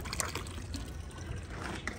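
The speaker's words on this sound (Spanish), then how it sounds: "Vamos a echar la última botellita de agua." The last small bottle of water poured onto a grill fire while making salsa in a plastic bag, a steady close trickle and splash that runs the whole time with no talk.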